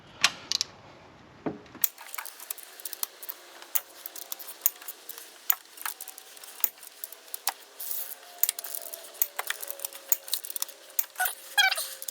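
Ratchet clicks in repeated short bursts while cylinder head bolts are broken loose on a 2012 Chevy Cruze 1.4L engine, close and fairly quiet, after a brief louder knock at the start.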